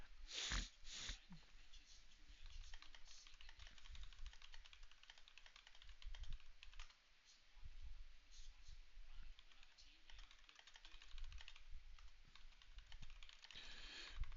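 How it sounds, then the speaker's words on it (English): Quick, irregular clicking of computer keyboard keys typed in bursts, close and fairly quiet, with sniffs, a few louder knocks and faint background voices. "I'm typing to my Austrian friend."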